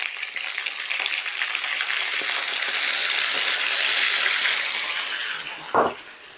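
Liquid pours into a pan of frying pork and beef meatballs, giving a steady hissing sizzle that swells and holds for several seconds, ending with a short clunk.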